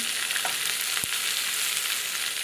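Ridge gourd pieces with ginger, garlic and tamarind frying in a pan, a steady close sizzle throughout with a single sharp knock of a spoon against the pan partway through.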